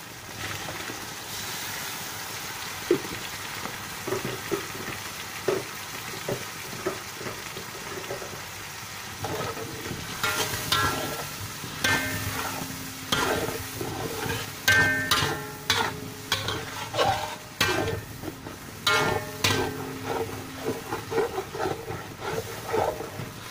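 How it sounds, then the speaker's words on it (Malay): Ground chilli spice paste for a black pomfret fish curry simmering in oil in a pan, a soft sizzle under frequent scraping stir strokes that grow busier and louder partway through, close and with no talk. "kita renehkan dulu bahan kisar ni sehingga terbit minyak"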